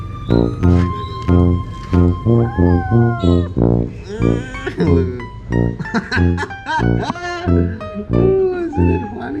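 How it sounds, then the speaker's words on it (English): A kitten eating a sardine meows repeatedly and loudly in close, drawn-out cries, some rising into caterwaul-like wails, with short gaps between calls. "This is our cat, Mochi."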